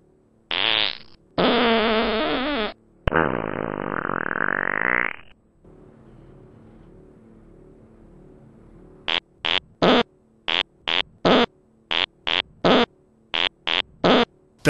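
Loud close farts, a few long rippling blasts followed by a string of short sharp rapid pops, coming as a comedic bodily noise after eating beef and bean burritos.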